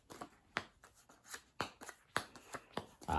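Play Nine golf card game cards are shuffled by hand, giving a series of short papery riffles and snaps at an uneven rhythm, close and fairly quiet with no talk.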